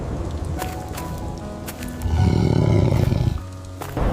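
A tiger in an animated story lets out a deep, rumbling roar that swells to a loud, sustained peak in the middle, after scattered light thumps and rustles.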